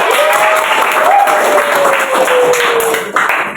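A classroom of students applauds together, a dense, steady burst of clapping close by, with a voice carrying over it.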